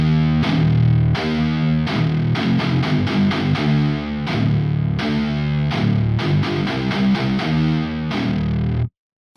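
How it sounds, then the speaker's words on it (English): Distorted, synthetic-sounding electric guitars played through an Axure MIDI guitar processor in stereo play a steady chugging riff with chords and fills, loud and continuous, stopping abruptly near the end. "We'll listen to the guitars in stereo."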